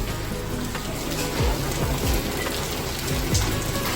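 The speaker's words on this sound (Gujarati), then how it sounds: "લેવડો જો અત્યારે હાલ વરસાદ ફૂલ ચાલુ." Heavy rain pours steadily on a farm in Gujarat, a dense continuous hiss of drops striking surfaces, with a few louder splashes and no talk.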